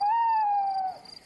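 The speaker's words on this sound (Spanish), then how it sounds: "Ha sido un búho." A cartoon owl hoots once in a long, smooth, tonal call with a slight downward bend, clear and alone against quiet, trailing off at the end.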